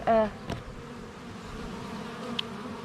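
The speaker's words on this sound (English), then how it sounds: "You don't realize just how many bees are coming and going" Insects buzz near the hive entrance, a steady low drone with a few louder passes close by and a brief tonal whine at the start.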